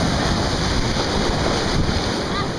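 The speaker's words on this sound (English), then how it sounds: "every time I come in it seems like the waves get bigger" Ocean waves break at Jones Beach on a July day, heard as a loud, steady roar of surf mixed with heavy wind buffeting the microphone.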